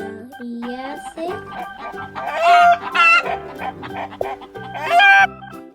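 A farm hen clucks in a few short, bright bursts over a busy tonal backing, the loudest calls coming near the middle and again toward the end.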